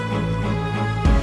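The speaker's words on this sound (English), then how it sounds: "That's the sound of a dog girl collapsing." In the game Monster Girl Quest Paradox, a dog girl collapses in exhaustion: a steady tonal effect ends in a short, heavy thud.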